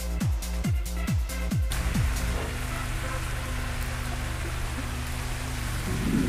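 Rain falling in a bus simulator game set in Indonesia, a steady soft wash of rainfall following a few quick descending mechanical tones, continuous and moderately faint throughout.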